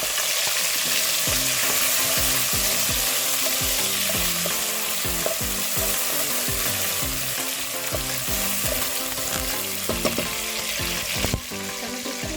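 Cumin seeds splutter and crackle in hot oil for a dal tadka, a loud, steady sizzle packed with sharp popping clicks running throughout, with a brief lull near the end.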